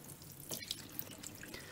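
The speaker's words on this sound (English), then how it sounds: "Just make sure that water is flowing through that easily by running the tap through it" Tap water runs through the lower spray arm of a Bosch dishwasher, a steady faint rushing splash with a few small drips and clatters, with no talk.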